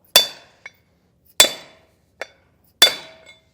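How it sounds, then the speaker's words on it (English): Three sharp metal hammer blows drive a grease seal into a 2022 Forest River Rockwood Geo Pro trailer hub through a socket, each strike followed by a lighter ringing tap, evenly spaced and close. "we're just going to hammer that until it"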